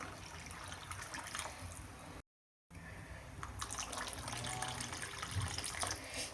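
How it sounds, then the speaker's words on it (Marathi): Water runs and splashes steadily into a kadhai of cooking spiced rice, close by, with a brief silent gap partway through. "तर मी अजून पाणी टाकते."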